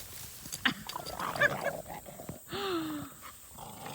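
Two dogs tussle over a stick outdoors in nature, trading low growls and snarling grunts in short irregular bursts, fairly quiet and close, with brief pauses between rumbles.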